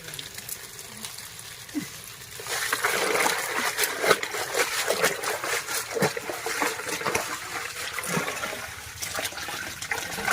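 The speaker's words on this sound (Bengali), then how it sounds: "বালতির মধ্যে সরাসরি ধুয়ে দিচ্ছি।" Bay leaves are swished and washed in a bucket of water, with steady splashing and sloshing that swells after a quieter start and carries on close by.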